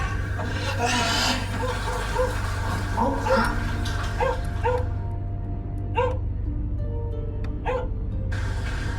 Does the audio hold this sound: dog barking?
yes